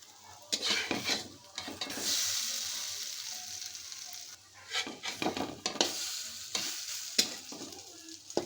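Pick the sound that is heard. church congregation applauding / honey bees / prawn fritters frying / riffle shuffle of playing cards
prawn fritters frying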